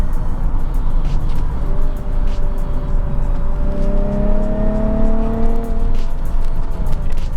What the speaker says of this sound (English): there's definitely a little bit different engine sound.